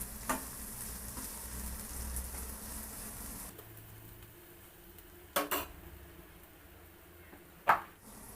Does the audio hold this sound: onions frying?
yes